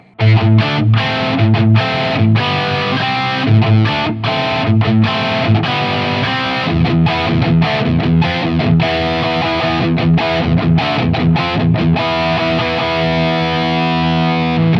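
Loud distorted electric guitar, a Firefly Warlock-style guitar on its bottom pickup position, plays a continuous riff of chords and notes with brief choppy pauses, thick and gritty throughout.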